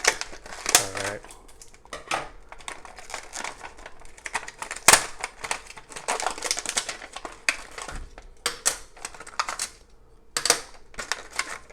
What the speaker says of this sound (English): You need scissors to open these, so just prepared. Kind of a pain to cut through this.